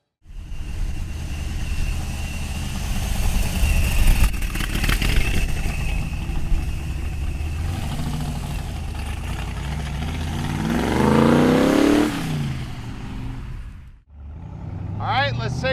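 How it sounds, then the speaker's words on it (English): A supercharged Factory Five 1965 Shelby Cobra replica runs with a steady loud engine rumble that swells into a rev, drops briefly, then picks up again, with someone talking over it. "Let's take this Factory 5 Supercharged for a ride."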